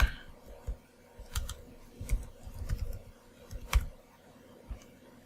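Someone types on a computer keyboard in short, irregular bursts of soft clicks during a live coding session, close and fairly quiet with no talking.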